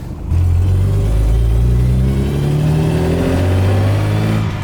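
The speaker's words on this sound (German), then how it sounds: "Der Motor hat einen ganz gesunden Klang, einen gesunden Sound." A fully restored 1963 Maserati 3500 GT Sebring Series 1 engine revs steadily and loudly, its pitch rising and falling through several sweeps, with a deep rumbling tone throughout.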